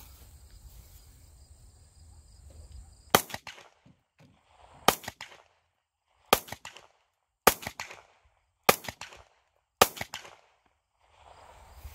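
Six sharp, loud 9mm shots from a Taurus GX4XL pistol at an outdoor range, spaced about a second or two apart, with crickets chirping faintly between them.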